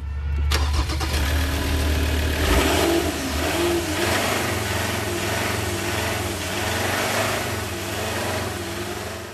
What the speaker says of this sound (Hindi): सेल्फ मार के एक बारी देखते हैं कि गाड़ी का सेल्फ कैसा है।